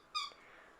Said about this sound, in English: you can hear my puppy in the background with his little squeaky toy